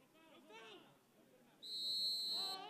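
During a Real Monarchs SLC vs Sacramento Republic FC soccer match at Zions Bank Stadium, a referee's whistle calls a foul with one sharp, sustained shrill blast. A commentator talks before and after it.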